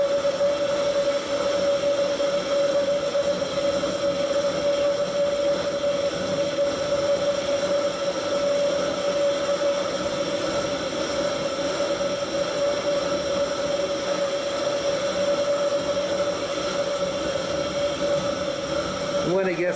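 A vintage Coleman pressurized gas lantern roars at full bore, a loud, steady roar with a constant high whine running unbroken throughout, with a voice faintly underneath.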